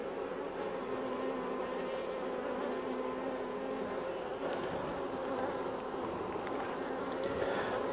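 Honey bees buzz steadily around an opened, queenless hive during a honey pull, a dense, continuous droning swarm close to the microphone with no voices.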